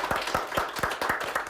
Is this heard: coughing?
no